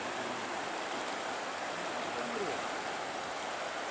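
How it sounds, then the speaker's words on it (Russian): Rapids on the Razdolnaya river near Pokrovka, heard as a steady, dense broadband rush of fast-flowing water that holds an even level from start to finish with no pauses. "Вот такая вот быстрина на реке."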